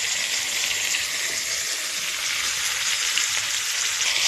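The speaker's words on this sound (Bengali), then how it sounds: "আর মাছটা আমি ভাজা করে নিচ্ছি, একটু ভালো করে ভেজে নিতে হবে।" Pieces of snakehead fish, coated with salt, turmeric and cumin-chili paste, fry in hot oil with a steady, close, loud sizzle that holds evenly throughout, no voices.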